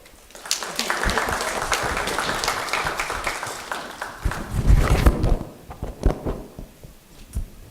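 Applause from a university audience in North Carolina fills the room with dense clapping, then thins into scattered, uneven claps toward the end, loud and close.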